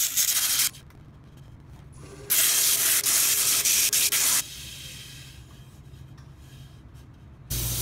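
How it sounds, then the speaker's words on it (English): Sandpaper sands excess wood filler off a wooden bowl in bursts of abrasive hiss, loud rasping passes alternating with quieter stretches of rubbing, close by with no voices. "I sand the excess wood filler off."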